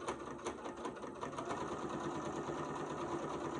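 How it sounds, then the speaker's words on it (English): A sewing machine runs steadily, stitching straight rows along the seams of a fabric-scrap hot pad, its needle chattering in a fast even rhythm, close and moderately quiet. "I'm just going to stitch down these rows where the seams are"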